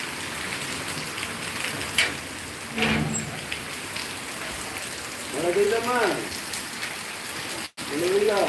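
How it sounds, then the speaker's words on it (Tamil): Heavy rain pours down steadily with water running across the ground, a dense continuous hiss close by, while faint voices come through in brief moments. "தண்ணியோடு தான் தண்ணி ஓடுற அளவுக்கு நல்ல மழை தான்"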